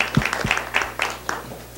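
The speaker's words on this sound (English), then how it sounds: "Can we clap for Representative Mabry?" Brief applause from a small audience at a community meeting on rent stabilization, a short scattered patter of claps that fades within two seconds.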